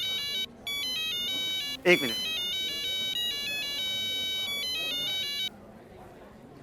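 An electronic phone ringtone plays a repeating melodic pattern of bright tones while a call is placed to a lawyer, broken by a short pause and a brief spoken interjection midway, then stopping abruptly.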